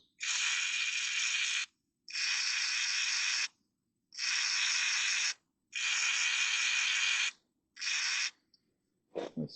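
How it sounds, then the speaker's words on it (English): WD-40 sprays onto the valve stems of a Kohler Command Pro engine in five separate close, loud hissing bursts, each a second or two long with short pauses between, ending in a brief clatter. "And then we'll spray some WD-40 on them."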